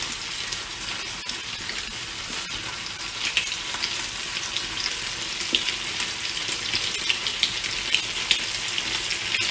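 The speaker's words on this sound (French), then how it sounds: "les petits roulés dans la poêle pour les colorer et les chauffer" Cheese-filled sandwich-bread rolls fry in hot oil in a pan, a continuous loud crackling sizzle with occasional sharper pops and light utensil taps, close up and without voices.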